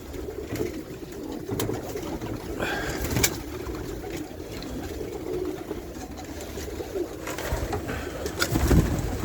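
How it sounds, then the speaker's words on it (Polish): Pigeons coo softly and repeatedly nearby in a loft, with scattered wing flutters and rustling in a roomy space. "Dużo gołębi."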